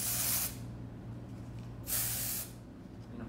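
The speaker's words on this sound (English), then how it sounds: "We're gonna spray it in the area" Two short bursts of aerosol hair color spray hissing from a can, each lasting about half a second, separated by a pause, close and fairly loud.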